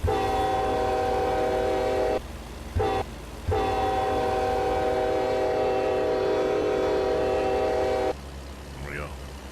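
A train horn in the Euro Truck Simulator 2 video game on a Russian map blows long sustained harmonic blasts, broken by brief gaps, loud against a low engine rumble.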